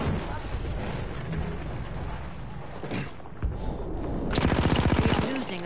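Rapid automatic gunfire from an opponent in a PS4 shooter, dense fast bursts over busy game noise, with a sharper, louder volley near the end.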